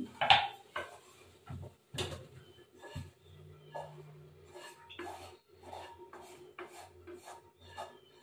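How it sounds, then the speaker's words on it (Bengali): Food is stirred in a pan with a spoon, giving repeated scraping and clinking strokes at close range with a low hum and faint background noise underneath. "এবার আমি একটু নাড়িয়ে দিলাম"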